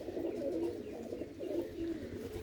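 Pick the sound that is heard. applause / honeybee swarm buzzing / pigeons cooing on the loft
pigeons cooing on the loft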